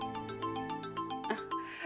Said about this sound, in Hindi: देव का फोन है, हम अभी आए